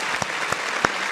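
Short burst of steady clapping, as if from a small group, runs at an even level with a few louder individual claps standing out at regular intervals during a 49ers mock draft show.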